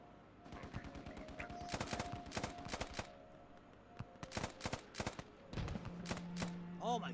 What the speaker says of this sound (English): those fucking mortars are taking off the sandbags